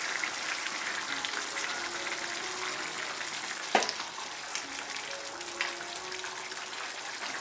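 Tomato and white beech mushrooms simmer in a pot for a beef stew, a steady close bubbling and sizzling texture running throughout with one brief clank of the lid or utensil midway.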